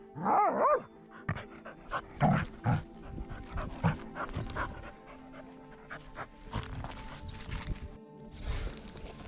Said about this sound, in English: We just heard Max bark, which is a good thing.